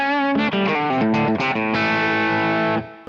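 An electric guitar played through a Kemper Deluxe Reverb amp profile rings out with a short run of crunchy, driven notes that ends in a sustained chord fading away.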